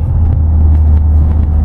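A Volkswagen Golf GTI engine and exhaust give a loud, close, deep rumble that holds steady and strong for the short stretch.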